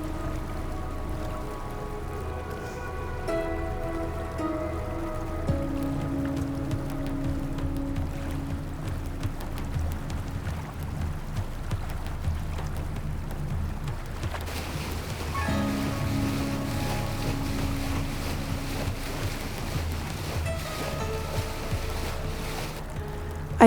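A sailboat's engine droning steadily while pushing into a headwind on a saltwater passage among mountains, a low continuous hum with wind and water noise over it and no talk.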